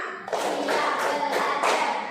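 A class of Indonesian schoolchildren claps together in a counted rhythm, producing four or five sharp, evenly spaced group claps that ring out close and loud with no talk.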